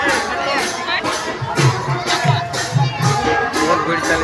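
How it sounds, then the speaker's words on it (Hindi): A dense crowd fills a road jammed with vehicles and roadside stalls at the Karla Ghati temple Chaitra Purnima fair, a steady wash of babbling voices and bustle close around. "बहुत भीड़ चली देखो"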